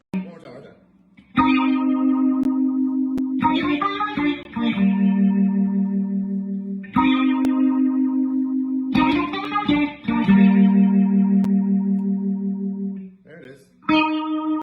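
Electric guitar chords run through a Ross Phaser Distortion pedal, a swirling, distorted phaser effect, ringing and sustaining in phrases with short gaps between them.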